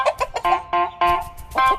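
A cartoon chicken clucks in quick, loud, close bursts, a rapid string of tonal bawks and clucks with no speech.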